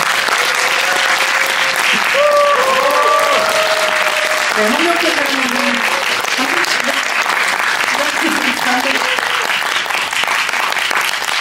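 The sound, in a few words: audience applause welcoming film director and cinematographer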